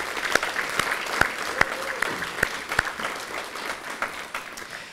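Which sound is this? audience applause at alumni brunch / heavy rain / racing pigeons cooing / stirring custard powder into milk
audience applause at alumni brunch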